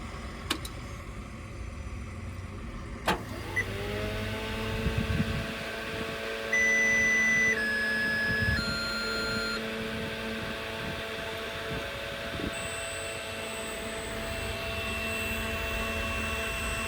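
A retired school bus engine cranks with a sharp click and catches, then settles into a steady idle with a low drone and faint whine, with brief high electronic beeps partway through.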